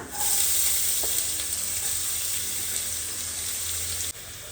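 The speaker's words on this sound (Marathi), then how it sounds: "जिरा असं भाजून घ्यायचं आणि त्यात टाकायची हिरवी मिरची मिरची थोडीशी भाजून झाली की त्यात टाकायचा आपण कांदा" Onion, cumin and green chilli fry in a pan with a steady, loud, bright sizzle that continues without a break, with a brief stir partway through and no talking.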